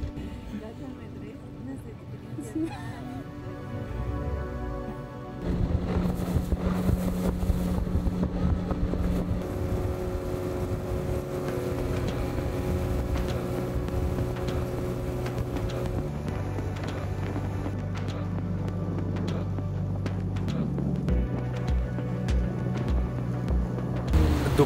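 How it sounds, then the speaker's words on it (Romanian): A small motorboat travels along a jungle river in the Bolivian Amazon, its outboard engine droning steadily and shifting pitch as it runs, with water rushing past and occasional voices talking under the motor noise. "După aproximativ 15 minute de mers în bărcuța asta, am ajuns la barca noastră cea mare"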